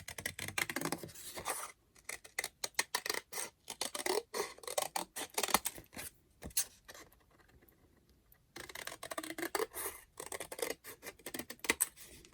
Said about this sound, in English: So I'm just going to trim around the frame here.